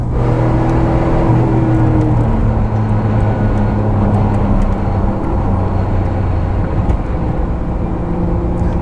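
A Noble M12 GTO-3R sports car driven along a road: a loud, continuous engine drone with steady tonal whines and road roar, held at an even level throughout with no one speaking.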